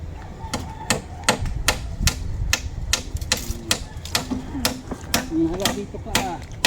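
Sharp hammer blows strike again and again in a quick, fairly regular rhythm, close by, with faint voices and background activity underneath.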